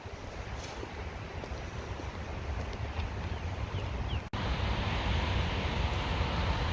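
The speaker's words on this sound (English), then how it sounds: "Probably might be able to hear the water over there." Steady broadband rush of splashing water from Buckingham Fountain in Chicago's Grant Park, fairly close and constant, with wind buffeting the microphone throughout.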